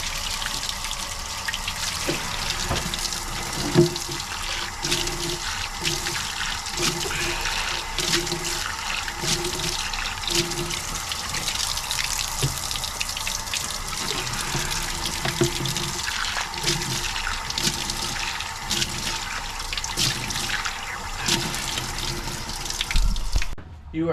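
Steady running water from a tap fills the whole stretch, with faint clinks and splashes as an acrylic fish tank top is washed underneath in warm soapy water.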